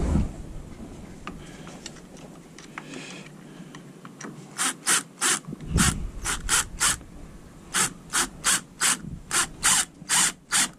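A wrench ratchets a bolt on a homemade kayak motor lift. Scraping and handling noises lead into a long run of rapid, evenly spaced metallic clicks, close up and fairly loud.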